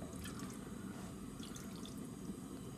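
Water pours steadily into a pot of kimchi stew, a continuous close splashing and trickling that holds even for about three seconds with no talking.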